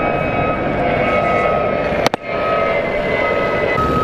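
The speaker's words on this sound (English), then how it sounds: "I do want to apologize for all the planes" Airplanes pass overhead out of New York as a loud, steady roar fills the air, broken by a brief sharp click near the middle before the drone resumes.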